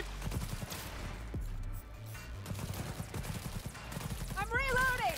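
Rapid gunfire in Cyberpunk 2077 Phantom Liberty, quick repeated cracking shots in bursts, fairly faint, mixed with voices talking.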